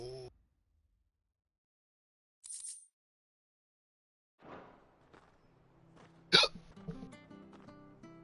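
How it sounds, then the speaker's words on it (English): Hiccups come from a Final Fantasy XVI character, a few sharp, isolated hiccup bursts spaced seconds apart over near silence, with soft footsteps and faint game sounds near the end. "Dang hiccups."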